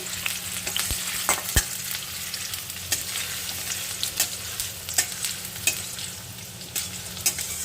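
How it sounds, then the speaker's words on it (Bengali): Chopped onions browning in a frying pan for a shrimp and potato dish, a steady close sizzle with scattered scrapes and taps of a spatula stirring. "এবং কিছু পেঁয়াজ কুচনো আচ্ছা এটা আমি একটু ব্রাউন করে নেব"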